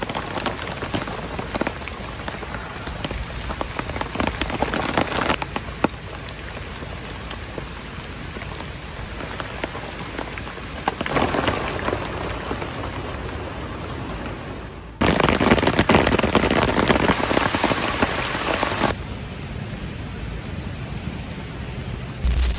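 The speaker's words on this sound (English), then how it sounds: "Would you still feel safe after hours of non-stop rain?" Heavy rain falls without pause in a rain-soaked forest, a dense, loud patter on the ground and leaves. Sudden cuts shift its intensity and texture several times, with no voices.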